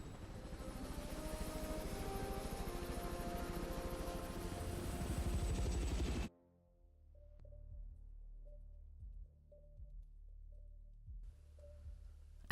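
A helicopter in the Hitman 2 video game thrums loud and continuous with dense rotor chop, then cuts off abruptly partway through, leaving quiet low game ambience with a few faint blips.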